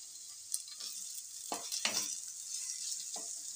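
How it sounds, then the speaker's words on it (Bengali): Vegetables fry in oil in a pan for a Bengali dudh shukto, a quiet steady sizzle broken by a few scrapes and stirs of a spatula against the pan. "আমার সবজিগুলো অনেকটাই ভাজা হয়ে গেছে, খুব একটা ভাজবো না।"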